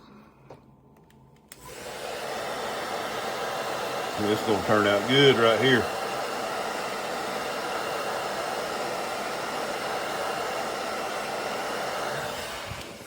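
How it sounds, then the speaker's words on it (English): A hair dryer blows steadily over a freshly painted fishing lure with a constant broadband whoosh that starts abruptly and keeps running, while someone speaks briefly over it. "Hit it with that dryer one more time."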